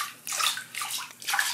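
Water splashes onto a rubber duck toy in three sloshing bursts, close and fairly loud, with short pauses between them.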